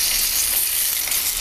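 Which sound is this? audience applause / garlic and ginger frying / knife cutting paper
garlic and ginger frying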